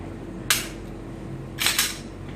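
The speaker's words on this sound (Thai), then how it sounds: "ปลดเซฟ ปืนปลอดภัยลั่นไกลได้" A Glock pistol has its safety released and its trigger pulled, giving two sharp mechanical clicks, one alone and then a quick double click, close and crisp over a faint background hum.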